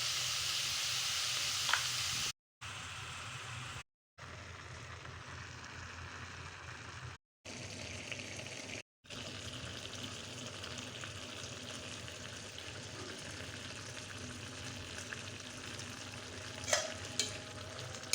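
Oil frying in a pan with a steady, even sizzle throughout, briefly cut out by a few abrupt gaps, and one soft clink near the end, close and without talk.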